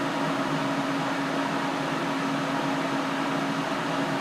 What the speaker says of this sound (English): this is the furnace